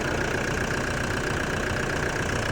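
A truck camper's engine idles steadily and close, a continuous even rumble with a faint whine and no talking.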